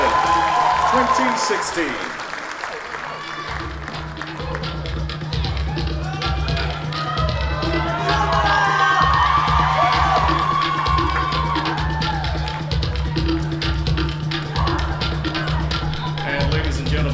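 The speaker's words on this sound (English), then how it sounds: "let's have a big round of applause for our 6 finalists for Miss Samoa New Zealand" Applause and some cheering from a pageant audience greet six Miss Samoa New Zealand finalists, steady and fairly loud throughout, with an announcer's voice speaking over it.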